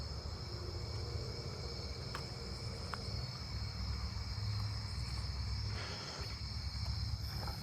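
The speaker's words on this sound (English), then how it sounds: "Another round tip cone head." A round-tipped conehead katydid calls at night in a neighbourhood, a faint steady high buzzing drone among other insect song, with a few soft clicks over low ambient rumble.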